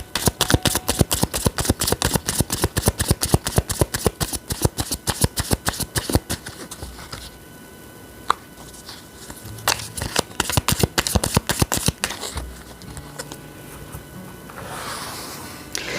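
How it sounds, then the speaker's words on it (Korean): Tarot cards are shuffled by hand in rapid, crisp riffling bursts for about six seconds, followed by softer, sparser card rustles and handling, close and clear with no talk. "제가 추가 카드 좀 더 뽑아볼게요"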